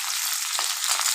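Cut okra shallow frying in oil, giving a steady, close sizzle with small crackling bursts throughout and no one talking.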